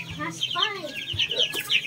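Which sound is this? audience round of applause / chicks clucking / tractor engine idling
chicks clucking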